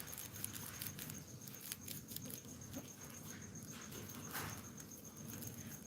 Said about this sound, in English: It sounds like hail though, if you can probably hear that knocking on the tin.